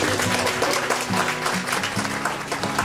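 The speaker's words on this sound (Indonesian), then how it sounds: "Tepuk tangan buat Ibu" Applause breaks out for a woman entrepreneur who makes local cosmetics, a steady dense clapping that fills the room, with a voice speaking over it and faint low musical tones beneath.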